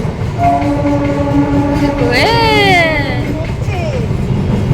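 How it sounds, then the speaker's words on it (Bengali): A train passes nearby, its horn sounding a long tonal blast in the middle, with rumbling rail noise throughout; a child and an adult talk excitedly over it. "ওই যে ট্রেন যাচ্ছে"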